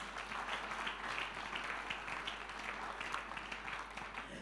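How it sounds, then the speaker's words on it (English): A church congregation at a Sunday service claps steadily and continuously, a faint, even wash of many hands with a low hum underneath and no clear speech. "can you clap for Jesus?"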